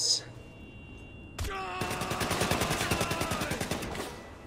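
Rapid automatic gunfire in GTA 5 Online, a single sharp shot followed by a fast steady burst of rounds lasting a couple of seconds, loud and close, no talk over it.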